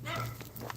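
A dog barks a short burst from a house a little way off along a neighborhood street, with a voice talking over it during an outdoor walk.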